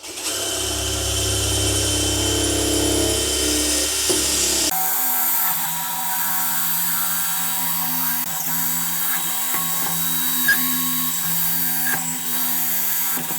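A power tool with a diamond blade cuts into a plastic drain pipe at a shower drain flange, melting the plastic; a loud, steady grinding whine runs throughout and shifts to a thinner, higher tone partway through.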